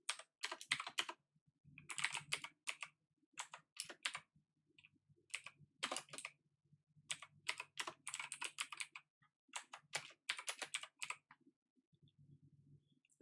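Bursts of rapid clicking keystrokes on a computer keyboard, close and quiet, separated by short silent pauses with no talk.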